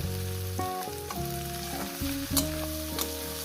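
Onion, garlic and green chili frying in a pan for a fish dish, a steady close sizzle running throughout with a few stirring scrapes, while background music plays over it.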